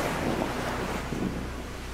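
Ocean waves wash steadily onto a beach at a camping site, a continuous surf roar mixed with gusting wind buffeting the microphone.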